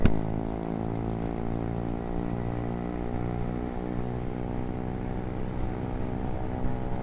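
A blue Honda Monkey motorcycle with a newly fitted exhaust rides at a steady pace. Its small engine gives a continuous buzzing drone that sits fairly close, with slight wavering and no speech.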